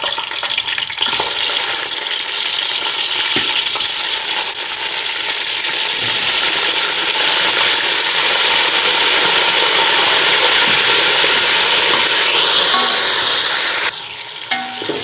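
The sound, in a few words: frying beef kebabs with browned onions in a pan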